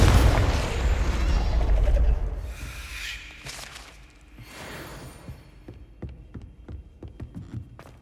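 A Confringo fire spell blast in Hogwarts Legacy: a heavy booming burst for about two seconds, then a softer whooshing swell and a run of light ticking and clinking sounds.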